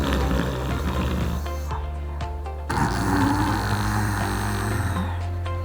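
A person imitates incorrect Ujjayi breathing, a rough snoring-like grinding rasp from the throat, loud and close, sustained with a brief pause before it resumes.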